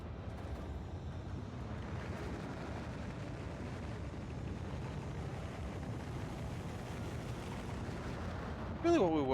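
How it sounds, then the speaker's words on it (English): A rocket launch in Factorio makes a sustained low, rumbling roar that fills the scene at steady level, with a voice speaking over it and a brief brighter burst at the end. "See, here comes the bonus rockets."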